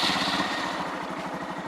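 A 2020 Honda Monkey 125 motorcycle idles close by, its small single-cylinder engine thumping in a steady, even rhythm with no revving.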